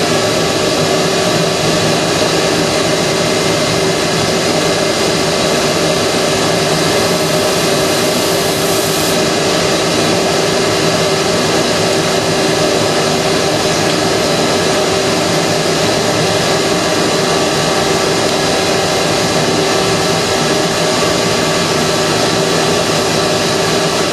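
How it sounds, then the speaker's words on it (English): A SandFlee drum sander runs with a shop vacuum hooked up to it, producing a loud, continuous roaring whine that holds unchanged for the whole stretch. "I've got this SandFlee hooked up to my vacuum, so it's going to get a little noisy here"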